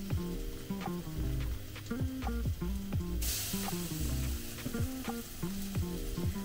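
Breaded fish frying in oil in a pan, a continuous close sizzle with crackling pops and spatter, no talking.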